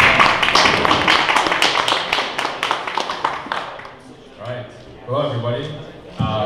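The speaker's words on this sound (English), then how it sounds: "Round of applause, please." Audience at a San Francisco Bitcoin meetup applauding, dense clapping loud at first and thinning out over about four seconds, followed by someone speaking.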